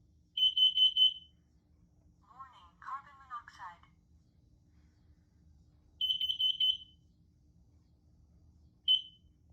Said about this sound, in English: Kidde carbon monoxide alarm. It's a CO alarm.